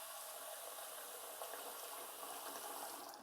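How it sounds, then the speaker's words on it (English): A kitchen sink tap runs water into a bowl in a steady, continuous hiss and splash that stays even for the whole stretch, close and alone with no talking. "if you just bring it over to the sink and then just add water until it's like"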